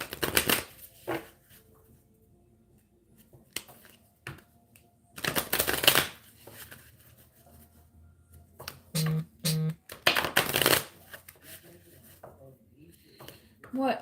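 Animal oracle cards are shuffled in quick, crisp bursts of riffling and tapping, separated by quiet pauses, close by.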